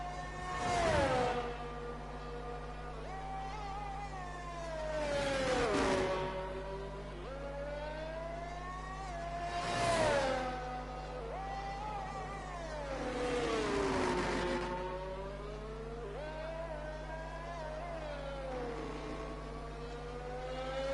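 Race cars pull out of the pits during a race in Portugal. Their engines whine in repeated rising and falling revs that swell and fade in waves over a steady low drone, with no voices.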